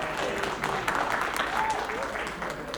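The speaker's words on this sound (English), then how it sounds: "round of applause for you guys" Audience applause for first-time attendees at Sacramento Darwin Day, a steady wash of clapping from a crowd that continues throughout, with voices and cheers mixed in.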